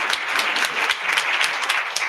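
An audience at a women's fund grant awards event claps steadily, a dense, even patter of many hands filling the room throughout.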